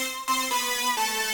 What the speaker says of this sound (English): my synth lead part, it sounds like this.